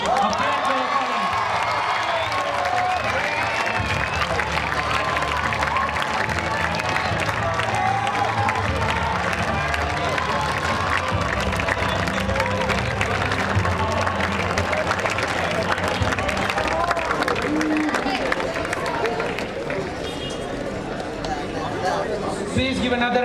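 Audience at an under-20 school football award ceremony applauds and cheers, with a thick, continuous mix of clapping, crowd chatter and children's shouts, while an announcer talks over it.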